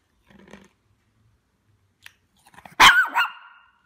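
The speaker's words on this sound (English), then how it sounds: "why are you barking?" A dog gives a loud, sharp bark near the end, with faint rustling and a small click before it. No one speaks.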